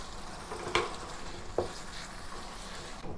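Satay beef being stirred back into its sauce in a wok, with a steady close sizzle and a couple of scraping stirs.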